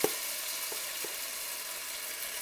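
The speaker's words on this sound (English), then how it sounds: "So we are ready to start frying our latkes." Steady crackling sizzle of latkes frying in hot oil, with a few soft plops as batter drops in near the start.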